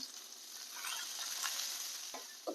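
Lentils sauté in tempering oil in a pan with a steady, fairly quiet sizzle and a couple of faint clinks near the end.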